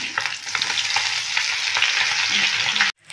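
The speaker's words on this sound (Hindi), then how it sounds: "हमारी मछली कितनी अच्छी से फ्राई हो चुकी है, हम इसे दूसरी तरफ पलट लेते हैं" Small fish frying crisp in a pan with steady, dense crackling sizzle and faint spatula scrapes, close and loud, cutting off abruptly near the end.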